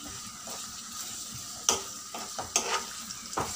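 Tomato and curry leaves fry in hot oil for a besan chutney, giving a soft steady sizzle up close, broken by several sharp scrapes and clinks as they are stirred in the pan.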